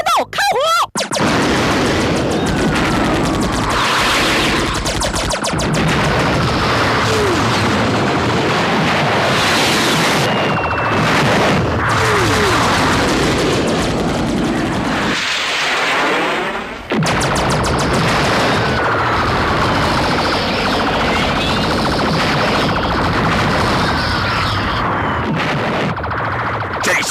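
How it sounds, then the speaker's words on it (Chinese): Cartoon space battle from the Blue Cat animated series: a loud, dense barrage of gunfire and explosions rolls on almost without a break, with only a short lull partway through. "准备战斗，开火！"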